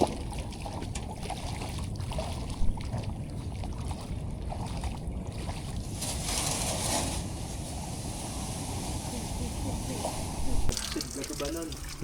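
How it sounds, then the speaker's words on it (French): Oars splash and churn water steadily as a boat is rowed backward off a coral reef in Tahiti, with people talking over the continuous watery wash. "Ouais, je rame en arrière."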